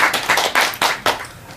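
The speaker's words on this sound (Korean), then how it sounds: "이럴 때 박수" A few people clap in short, uneven bursts during a talk, sparse and close with gaps between the claps.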